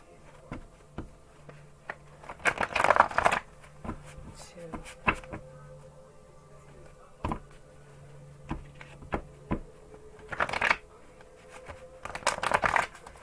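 Several bursts of riffling tarot cards, each a quick crisp flutter, with soft handling clicks and taps in between.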